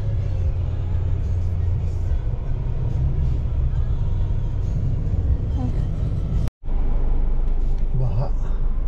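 Steady low rumble of congested road traffic in Masantol with a tricycle blocking the way, vehicles idling and crawling nearby, a brief dropout partway through and talk over the noise.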